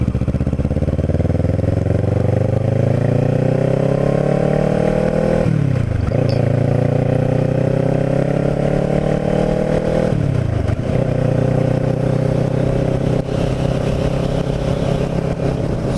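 Kawasaki Ninja 650r motorcycle riding along a coastal road by a canal in West Cape May, engine droning loud and steady with rising revs, dipping briefly twice as gears shift.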